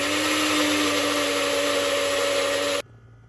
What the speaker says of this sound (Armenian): Այս ամեն ինչը լավ բլենդ ենք անում,